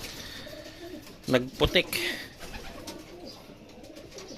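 Racing pigeons coo in a loft, with a short burst of soft, throaty coos in the middle of the clip, near and moderately loud, while someone speaks quietly.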